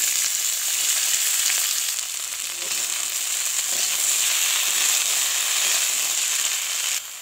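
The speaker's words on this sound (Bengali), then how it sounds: "কড়াইতে তেল দিয়ে দেবো আর বিন কড়াই আলুগুলো দিয়ে দেবো" Beans and potatoes frying in oil in a wok, a continuous loud hiss and sizzle with faint stirring scrapes, no voices.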